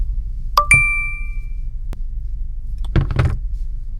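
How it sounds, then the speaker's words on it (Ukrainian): A phone's text-message notification rings out as a short bright ding with a second tone, in a truck cab on the road, over a steady low engine hum, followed later by a few soft clunks. "Є смс-ка."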